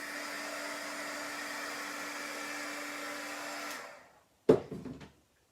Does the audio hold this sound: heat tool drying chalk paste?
yes